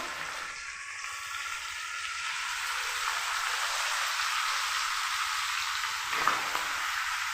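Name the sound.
sizzling of spices and rose water frying in ghee in a pan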